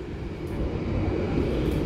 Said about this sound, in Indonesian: ini dia kereta panoramik untuk kereta api Turangga